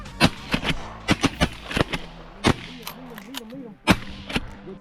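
Shotgun blasts ring out during a waterfowl hunt, about eight sharp, fairly loud reports scattered irregularly across the moment, with excited shouting from hunters and a duck call quacking between the shots.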